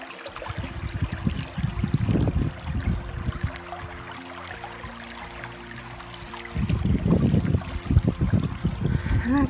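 Water trickles and splashes into a bottle being filled from an outdoor source, with irregular bursts of gurgling that fade in the middle and return louder near the end, no talking.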